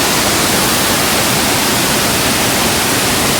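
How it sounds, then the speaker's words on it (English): A waterfall roars continuously near a mountain trail, a dense, steady broadband rush with no breaks. "it's called a waterfall because the water, it falls"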